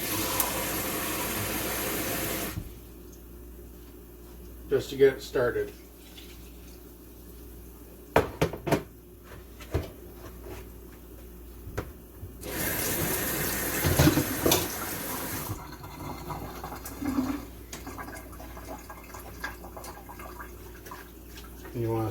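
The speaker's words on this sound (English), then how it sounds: "Now you want to add in at least 1 cup of water." Tap water runs in loud bursts into a gravy mix for a roast dinner, with clattering handling sounds and brief talk in between the pours.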